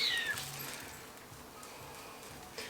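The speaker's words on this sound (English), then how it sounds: "the cat's very unhappy about something." A cat meows in an unhappy, drawn-out way several times during a home hair-bleaching session, moderately close and fairly quiet, with no talking over it.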